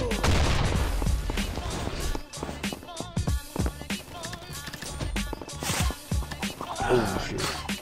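Irregular sharp gunshots and bursts pop through a busy Combat Master firefight, mid-distance and punchy amid footsteps and game sounds, with a voice speaking at times.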